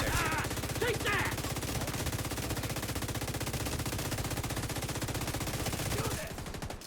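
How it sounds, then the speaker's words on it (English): Rapid automatic gunfire from the player's weapon in a shooter video game, a dense continuous burst lasting several seconds at steady loudness, with a brief voice line near the start. "As I'm shooting."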